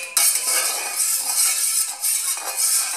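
Lye and aloe vera are mixed for homemade coconut oil soap. The stirring makes a steady, close, hissy scraping with faint clinks, continuous for the whole stretch.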